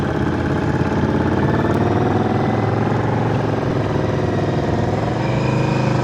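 Motorcycle engine running steadily at low speed during slow-speed riding drills in a Chicago practice session, a continuous close idle-like rumble with slight clutch-modulated rises and falls, no talk.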